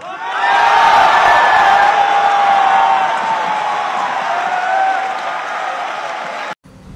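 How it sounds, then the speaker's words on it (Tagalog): Congressmen in a legislative chamber applaud and cheer for BBM in a standing ovation, a broad wave of clapping and crowd noise with whoops rising and holding for several seconds before cutting off abruptly. "Nagpalakpakan ang mga buaya kay BBM, di ba?"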